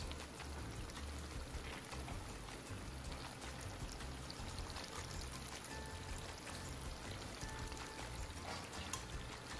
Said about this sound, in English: So now we're going to put in our calamansi juice.